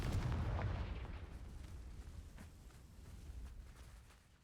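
A video game explosion spell goes off as a deep, rumbling blast that rolls on and slowly fades over several seconds, fairly faint and with no voices.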